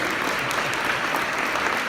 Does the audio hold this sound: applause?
yes